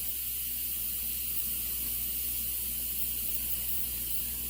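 A pressure cooker cooking Chinese-style BBQ pork hisses steadily as it vents steam, a continuous loud close spray with a faint rattling undertone and no talk.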